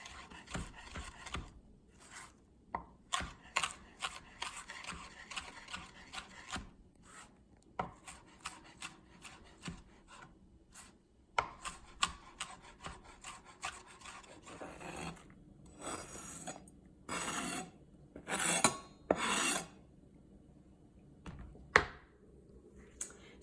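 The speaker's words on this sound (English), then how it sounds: "we've cut all of our vegetables, obviously after washing them, cucumber and onions and mint" Vegetables such as cucumber, onion and mint being cut with a knife while preparing a vegetarian meal kit, heard as a run of close, quiet, irregular taps and rasping strokes, with a few sharper, louder chops toward the end.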